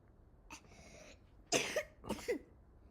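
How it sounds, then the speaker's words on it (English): A couple of short, harsh coughs close by, the second pair rougher, with a faint breath just before. "Yep, you're coughing on me."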